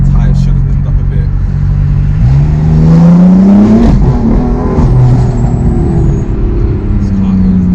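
A Stage 3 turbo BMW M4 accelerates hard from inside the car, its engine note rising steadily in pitch, dipping at a shift, then pulling again, loud and continuous with road and tyre noise beneath.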